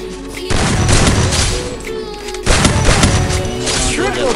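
Gunfire in Free Fire, two loud heavy bursts of rapid crackling shots, each followed by a ringing tail, with faint talk underneath.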